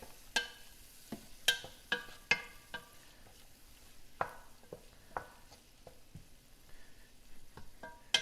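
Seasoned shrimp sautéing in a pan for scampi pizza, a quiet sizzle under scattered sharp clinks and scrapes of a utensil stirring against the pan, irregular and close.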